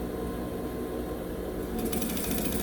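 A sewing machine runs steadily, stitching orange bias binding onto matching orange fabric at a slow, careful pace, with a continuous mechanical hum that grows a little busier and brighter toward the end.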